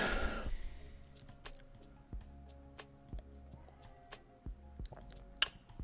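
Soft, evenly spaced keystrokes on a computer keyboard, close and fairly quiet, with a faint hum in the background.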